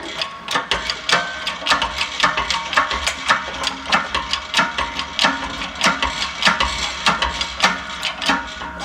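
Repeated ratcheting clanks come from a hydraulic press being cranked during a GT3 road race chassis rebuild, each stroke close and sharp in a steady, slightly uneven rhythm with no talking.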